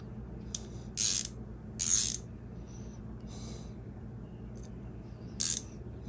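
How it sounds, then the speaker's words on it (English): A wrench works loose the oil drain bolt on a Honda CB550 motorcycle, giving a few short, close metallic scraping and ratcheting sounds separated by quiet pauses over a faint background hum. "So we will get the appropriate wrench for this thing."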